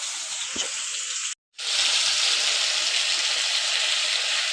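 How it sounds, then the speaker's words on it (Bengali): Vegetables with shrimp, figs and potato are sautéed in a pan, giving a loud, steady, close sizzle that cuts out for a moment before resuming strongly and evenly. "এখানে আবার সবজিটা কষানো হচ্ছে"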